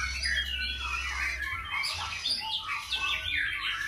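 Thin, high-pitched calls of a roughly seven-day-old masked laughingthrush chick chirp and squawk continuously over a low steady hum, close by and fairly loud.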